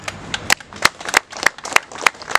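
Sparse, uneven handclaps from a small audience at a Gurkha rally, about a dozen sharp claps scattered across a couple of seconds, fairly close and dry with no voices.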